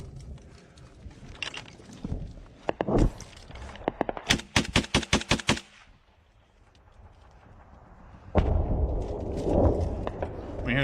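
Gunfire crackles during a firefight in the Ukraine war: scattered shots give way to a rapid volley of sharp, close cracks, then a lull and a heavier low rumble, with faint voices in the background.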